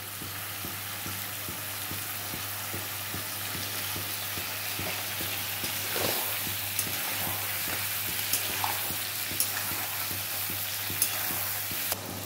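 Chicken and mushrooms sautéing in a pan without added water, a dense continuous sizzle with a low steady hum and occasional utensil clicks near the end.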